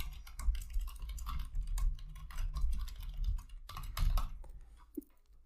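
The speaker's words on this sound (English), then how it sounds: "we're just gonna type this command" Fingers type a command on a computer keyboard while setting up an Ubuntu Linux server, a quick uneven run of close key clicks that pauses briefly before a final few taps.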